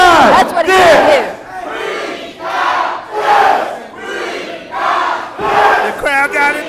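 A crowd at an independent wrestling event roars and yells in rhythmic surging waves, loud and close, with chanting voices rising and falling several times.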